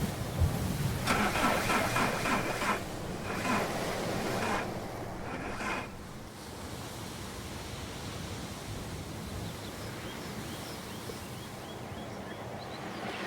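A car engine in the video game Far From Noise cranks and turns over while reversing, a rough, noisy rumble with several stuttering bursts early on, then a steady, dull hum.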